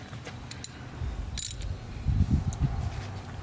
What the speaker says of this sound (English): Now I take my ratchet